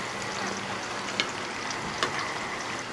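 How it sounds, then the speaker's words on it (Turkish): Soft, steady sizzling of bread pieces frying in oil, quiet and close, with a couple of brief clinks. "Sürekli çevire çevire kızartıp bir 30 saniye içerisinde almamız gerekiyor."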